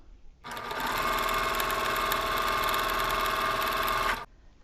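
A sewing machine runs in one steady burst of about four seconds while stitching a seam on a pinwheel star quilt block, giving a close, even mechanical whir with a quick start and stop, no voices.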